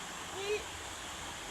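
Steady broadband rush of a river flowing beneath a bamboo bridge, a continuous watery wash with a brief soft splash-like swell midway, heard from nearby without talk.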